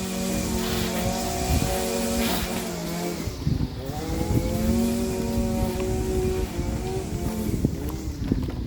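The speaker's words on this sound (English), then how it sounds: "So excuse the weed whacking noise." A small engine drones steadily with a buzzing, wavering whine, a weed whacker running nearby on the Appalachian Trail, its pitch rising and falling as it works.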